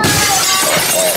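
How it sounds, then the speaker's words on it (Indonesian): A plate shatters in one loud, close crash of breaking ceramic with bright scattering fragments that fill the whole moment. No voices are heard. "Pecah piring. Hancur."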